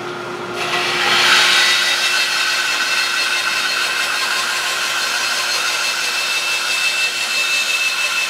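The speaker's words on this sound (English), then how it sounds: "So that means I got to start out by resawing and then running it through my planer." A machine saw resaws wood stock, probably on a bandsaw, with a loud, continuous high whine and a steady cutting hiss that stays level for the full stretch, with no one speaking.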